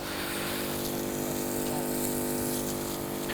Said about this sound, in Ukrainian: повністю її обризгуємо